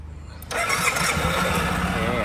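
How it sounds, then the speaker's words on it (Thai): A 2006 Suzuki Skywave 650 LX scooter cranks briefly, then catches and settles into a steady idle, heard close, with someone talking over it. "เดี๋ยวสตาร์ทให้ฟังเสียงเครื่องยนต์กันนะครับ"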